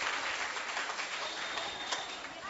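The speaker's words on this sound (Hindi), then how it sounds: "जोरदार तालियों से इनका स्वागत करें" Applause from a gathered audience at a religious discourse in Vrindavan, welcoming a donor: a steady, dense wash of clapping that fills the whole stretch without a break.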